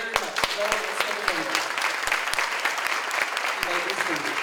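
A crowd at a formal Shelby County Links Beautillion Militaire event applauds steadily, with dense, sustained clapping and a few sharper individual claps throughout.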